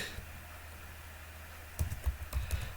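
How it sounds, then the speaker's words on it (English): Keys clack on a computer keyboard as a place name is typed into a search box, a short quick burst of close, crisp taps after a quiet pause. "Let's type Johannesburg"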